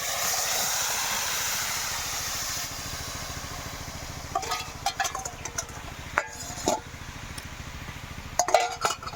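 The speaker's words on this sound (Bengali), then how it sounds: "তো আমি এখন আমটা আমি কড়াইতে দিয়ে দেব।" Mango pieces hit a hot, dry wok with no oil for a pickle. A loud hiss sizzles at first, then eases into a quieter sizzle broken by scattered metallic clinks and scrapes of a utensil against the pan.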